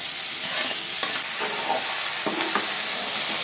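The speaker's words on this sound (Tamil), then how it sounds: "முருங்கைக்காய் பருப்பு வச்சுருக்கோம் இல்லையா, அதையும் அதிலே போட்டு சேர்த்து வதக்கணும்." Drumstick pieces and strained lentils are stir-fried in a hot pan, giving a continuous close sizzle broken by repeated scraping stirs and light clatters of the utensil, and no talking.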